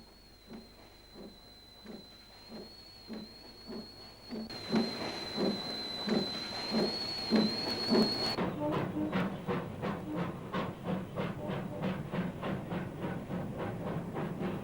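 Train at Hokitika station on New Zealand's West Coast, running the return service to Greymouth, with a steady rhythmic chuffing or clacking pulse under a thin high whistle-like tone that drops away partway through.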